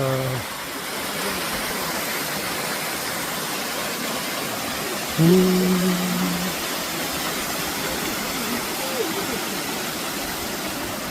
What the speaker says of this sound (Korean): 자, 여기는 폭포 나옵니다.